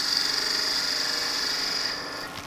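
A skew chisel cuts a spinning wood workpiece on a lathe, giving a steady, close whirring hiss with a high tonal whine that holds for about two seconds before easing off.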